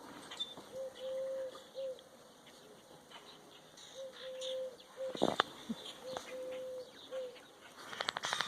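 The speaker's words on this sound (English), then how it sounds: "Can you hear the mourning doves?" Mourning doves coo softly in the distance on a snowy April farm, several low hooting phrases repeating in slow series, with faint birdsong, occasional rustles and brief knocks close by.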